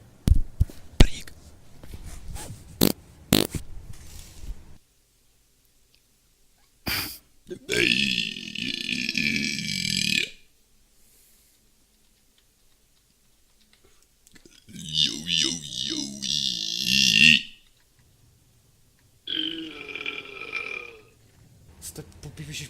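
Three long, loud belches roll out in separate bursts with silent pauses between them, after a scatter of sharp clicks and small taps at the start.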